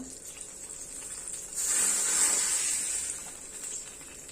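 A sudden burst of sizzling hiss as hot tempering oil with asafoetida hits masoor dal, loud for a moment and then slowly fading.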